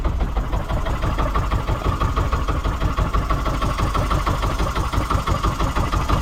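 Small fishing boat engine running at sea while fishing, a loud steady rhythmic chugging drone close by, continuous with no talking.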